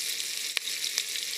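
Aromatics sauté in a pan with a soft, even hiss of frying oil, interrupted twice by quick clicks from a utensil.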